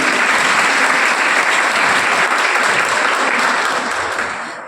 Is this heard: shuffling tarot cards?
no